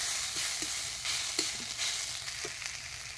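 Snake gourd (chichinga) frying in oil, a steady bright sizzle with a few soft clicks of stirring scattered through, close and continuous, with no talk.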